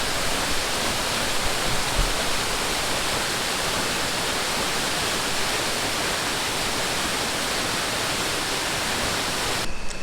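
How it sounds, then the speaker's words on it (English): A waterfall roars as a steady, dense, broadband rush of falling water, loud and unbroken throughout. "But another beautiful waterfall. We love our waterfalls,"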